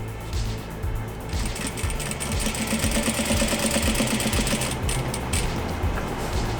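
A sewing machine stitches plaid fabric for a face mask, its steady mechanical whir running continuously at close range, with faint rattling from the needle mechanism and no talking.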